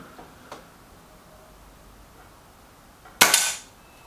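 A Kral NP02 air rifle fires one sharp, loud crack near the end, preceded by faint clicks and quiet background.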